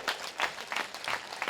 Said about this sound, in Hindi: तुम ताली ठोको अपने लिए